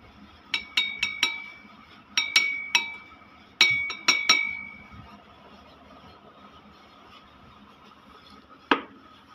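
Mercury is poured into a glass vessel, producing bright glassy clinks in quick clusters of three or four, then a lull and one last sharp ping.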